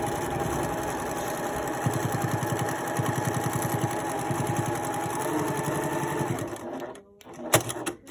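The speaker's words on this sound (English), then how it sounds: "And we're ready to go to our sewing machine." A Janome HD9 sewing machine stitching a fabric mask, running in a fast, steady mechanical chatter for several seconds before stopping, followed by a brief handling noise.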